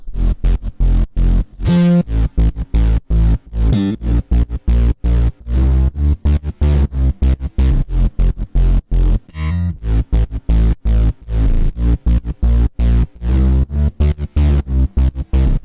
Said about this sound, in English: So in total, the bass line sounds like this